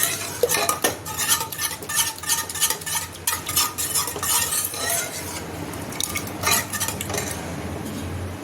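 Dal being mashed and stirred in a metal pot for a Dal Dhokli preparation, with steady repeated scraping and clinking of a spoon against the pot, close and fairly loud, no talking.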